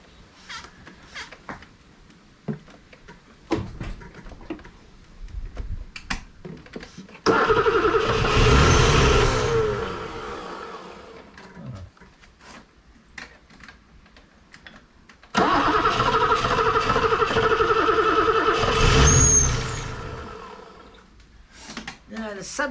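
A long-dormant BMW E9 3.0 CSi barn find cranks and fires in two loud bursts, each engine run lasting several seconds, separated by quieter stretches of tinkering with people talking nearby.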